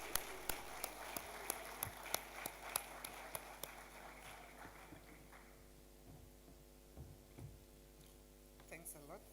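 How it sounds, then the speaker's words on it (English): Audience applause at a human settlements conference in the Eastern Cape, a quiet spell of scattered clapping from a hall over a steady electrical hum, fading into room tone. "Shall we applaud her as she comes up?"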